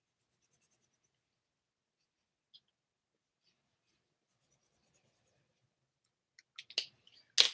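A marker draws squares on a board while a quadratic equation is solved by completing the square. After a long near-silence with a few faint ticks, a handful of quick scratchy strokes comes at the end, with no talk.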